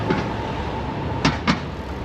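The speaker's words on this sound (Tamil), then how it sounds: "அங்கே பாருங்கள் மேலே பாருங்கள் மெட்ரோ போயிட்டு இருக்கு." A Singapore metro train runs on an overhead track, giving a steady rumbling rail noise with two brief clattering clicks from the wheels, heard alone without talk.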